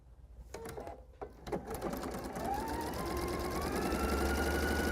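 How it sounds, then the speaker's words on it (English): A sewing machine runs steadily while stitching a quilt seam, starting with a few short bursts and then settling into a continuous, close mechanical whir that grows slightly louder. "I'm going to sew up to my pin and take it out."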